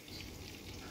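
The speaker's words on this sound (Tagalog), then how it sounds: "So magpainit ako ng mantika na. Ito na guys, nagprito na ako." Squid adobo fries in hot oil with a steady, soft crackling sizzle, heard close up and alone for a brief moment.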